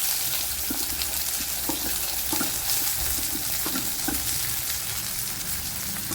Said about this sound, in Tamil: எண்ணெய் சூடாகிடுச்சு. நறுக்கி வச்சுருந்த வெங்காயத்தை சேர்த்துக்கலாம்.